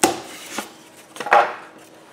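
A cut rectangular piece of material, roughly four to six inches long, is snapped off by hand, giving two short, sharp close cracks about a second apart with brief rustling between them.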